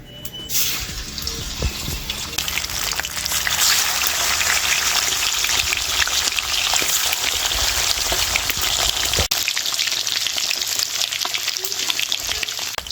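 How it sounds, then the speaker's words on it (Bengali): Loud, close sizzling of katla fish frying in hot oil, a dense crackling hiss that swells after the start and continues with occasional clatter. "এইবারে বাকি মাছগুলো ভেজে নেব।"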